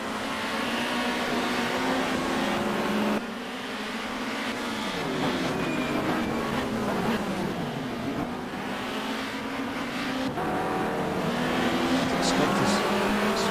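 A cluster of touring race cars battles for position at the Varano circuit in Italy, engines droning and revving loudly together as they pass, with a commentator talking over the racing.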